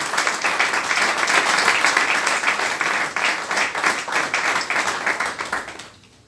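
A packed audience claps loudly and steadily for Professor K.P. Singh at a birthday celebration gathering, a dense, even burst of applause that fades out near the end.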